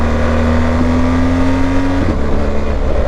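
BMW R 1250 GS motorcycle pulling hard in second gear, a loud close engine note holding a steady pitch before dropping off near the end, heavy low rumble throughout.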